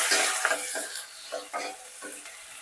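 Onions and green chillies fry in a pan for paneer tikka masala, with a steady bright sizzle broken by repeated scraping stirs close to the microphone.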